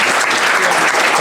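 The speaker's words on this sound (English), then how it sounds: "let's give him a round of applause" Luncheon audience applauding in a steady, dense burst of clapping that fills the short moment, loud and close.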